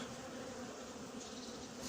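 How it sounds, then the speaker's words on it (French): Dense, steady buzzing of many honeybees crowding at a hive fitted with an anti-hornet tent, a faint continuous hum with no talk. "Là, il y a beaucoup trop d'abeilles en haut, c'est pas normal."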